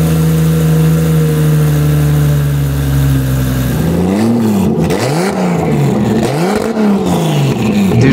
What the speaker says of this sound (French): Ça fait un son d'échappement libre.